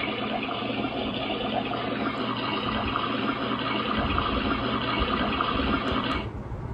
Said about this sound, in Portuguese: Esse é barulho de água,